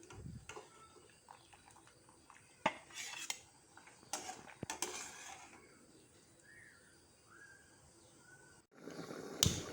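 A utensil scrapes and clinks against a pan while cooked fish roe is scooped out, with scattered metallic knocks and scrapes in a quiet kitchen, close by and fairly soft.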